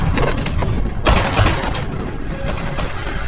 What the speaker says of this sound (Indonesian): Suara tembakan tersebut